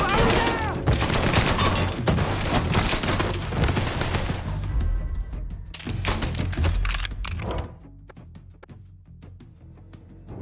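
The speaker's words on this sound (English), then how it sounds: "Fire! Fire now!" Dense, sustained gunfire from Mafia III, a continuous fusillade of rapid shots lasting several seconds before thinning into sparser bursts, loud and close, with game voices shouting over it.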